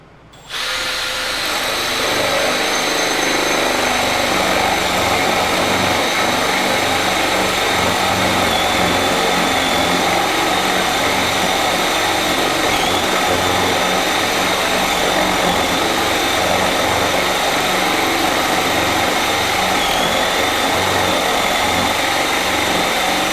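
Milwaukee 2801-20 brushless cordless drill boring a 1.5 inch bit through material, a loud steady motor whine with a constant grinding load that starts abruptly and runs without pause, close to the microphone.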